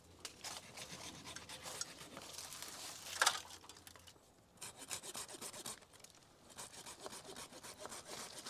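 A saw cuts through branches while a large landscaping tree is pruned, giving repeated rasping back-and-forth strokes close by, pausing briefly midway before the steady sawing rhythm resumes.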